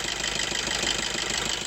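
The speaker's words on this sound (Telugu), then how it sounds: "ఐడిల్లో అయితే బండి యొక్క ఇంజిన్ సౌండ్ ఎలానే ఉంది." Maruti Suzuki Dzire DDiS inline four-cylinder diesel engine idling, a steady close rumble with an even low knocking pulse and mild vibration, heard alone without talk.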